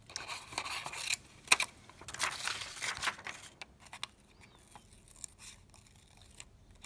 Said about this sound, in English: Actually, I'm going to keep this for the dots and cut an eye here.